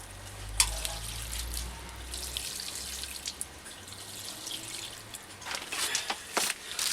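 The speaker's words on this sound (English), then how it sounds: "cover the spout with my hand and let my fingers trickle it into place like that" Water trickles from a watering can, spout covered by a hand so it spreads through the fingers onto garden railway ballast, giving a soft splashing patter with a few sharper drips, fairly close and without talk.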